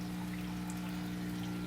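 Water drains from a 33-gallon aquarium, a faint, steady trickling and pouring hiss with a low constant hum underneath, uninterrupted over the brief stretch.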